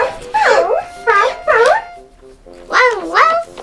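A dog barks in short, loud bursts, a few quick barks, a pause, then two more.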